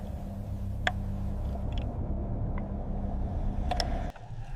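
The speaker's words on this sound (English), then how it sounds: "The ship's voice changes near its engines." A low, steady engine rumble in the hull of the Titanic, the 1912 liner, holds for about four seconds with a few faint metallic ticks, then drops away abruptly near the end.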